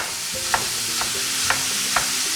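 Ground lamb and beef stirred together in a hot frying pan for stuffed eggplant, steady sizzling with four scraping spoon strokes about half a second apart, no talking.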